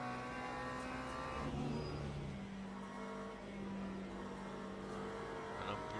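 Race car engine in the sim racing game Le Mans Ultimate, a steady loud drone with a shifting pitch, running continuously and close throughout, with no voices over it.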